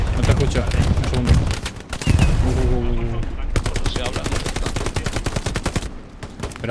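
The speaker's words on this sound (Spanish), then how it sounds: "Me están disparando, Kenji, ¿eh?" Rapid automatic gunfire bursts crackle in a World War II shooter game, loud and close, with Thompson submachine gun fire among them, as someone talks over the shots.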